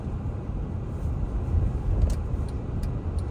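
A car drives through rain and snow in New York, its low road rumble and tire roar steady and continuous, with faint intermittent clicks above, no voices.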